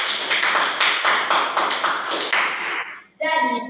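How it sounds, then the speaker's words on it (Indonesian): A classroom of primary school pupils clap their hands together in a steady, fairly loud burst for about three seconds, then it stops and a voice follows. "tepuk tangan dulu buat kita semua."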